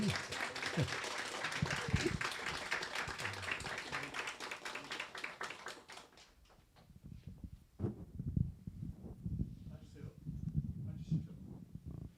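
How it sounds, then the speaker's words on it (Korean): An audience at an anniversary ceremony applauds to welcome the king, a dense sustained wash of clapping for about six seconds that then thins into scattered claps and crowd murmur. "뜨거운 박수로 환영하시기 바랍니다."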